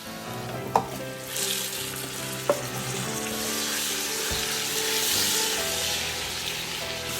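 Meat dropped into a hot pan with chili powder for Burmese coconut milk noodle soup, a couple of clanks followed by a loud, steady hissing sizzle that swells and holds close.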